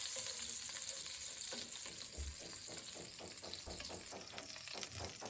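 Chicken pieces fry in butter and oil in a karahi for a chicken malai tikka dish, with a steady, close sizzle and occasional stirring scrapes throughout, no voices.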